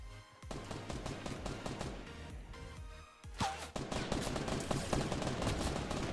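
Rapid bursts of gunfire from an online shooter video game crackle in quick repeated volleys, loud and dense, broken by a brief gap before the shooting resumes.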